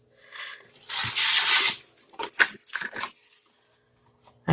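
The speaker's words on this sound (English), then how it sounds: "we're just going to cut our decorations" Paper being cut for gift box decorations: a few crisp, close snips and rustles in quick bursts, each a short slicing rasp, then near silence at the end with a brief knock.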